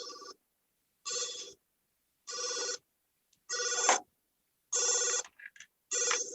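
A telephone rings in six evenly spaced electronic bursts, each about half a second long with silent gaps between, close and clear with no talking over it.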